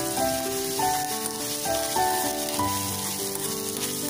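Onions fry in a pan with a dense, rain-like patter of sizzling that runs unbroken for about four seconds. Steady tonal music plays underneath it.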